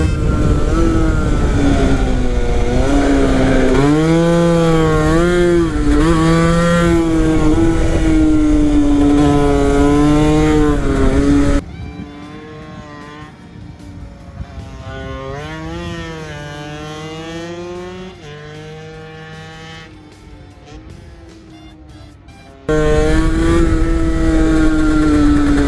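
A Honda NSR50 minibike's small two-stroke engine revs hard on a kart track, loud and close, rising and falling through gear changes. The sound drops to a muffled, quieter engine tone for about ten seconds midway, then returns at full volume.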